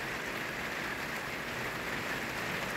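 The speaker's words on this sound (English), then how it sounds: "it's raining even heavier." Dense, steady rainfall pouring down continuously, a heavy hiss with no voices.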